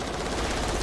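Heavy machine gun firing in the Natural Selection 2 video game, a loud, dense burst of rapid, continuous automatic fire with no pauses across the short stretch.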